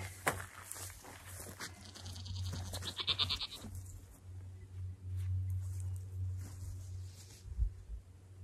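Goats feeding on pulled garden weeds by a fence give out a few bleats over a steady low hum, with some rustling and soft steps nearby, and no talk.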